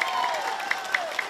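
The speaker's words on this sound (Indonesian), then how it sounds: "Kita boleh berikan tepuk tangan sekarang." An audience at a public election debate applauds, a dense wash of clapping with a few sharper claps standing out.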